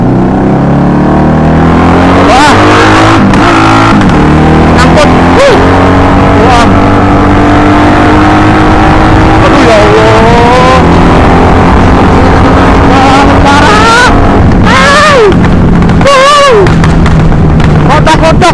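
A 1984 Honda Magna 750cc V-twin motorcycle runs loud and close, its engine rumbling and revving up and down repeatedly, with sharp popping bursts among the revs.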